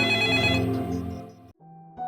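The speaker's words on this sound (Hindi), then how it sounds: "तभी काजल का फोन आने लगा।" A phone ringtone sounds alone with an incoming call, a steady melodic tone that plays loudly for about a second and a half, stops briefly, then starts again.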